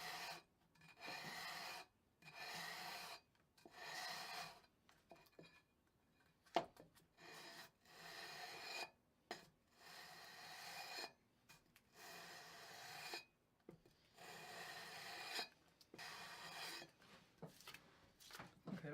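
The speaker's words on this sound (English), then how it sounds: "I'm just going to run my leveling beam and just" A leveling beam rasps back and forth across guitar frets in repeated long sanding strokes, each pass a close, dry scraping sound separated by brief pauses, with no voices.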